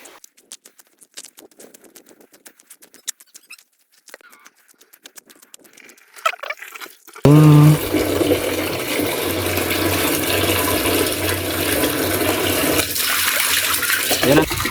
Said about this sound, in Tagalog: susubukan namin na ipump yung tubig pa punta doon sa taniman sa itaas kung kumusta yung kanyang pressure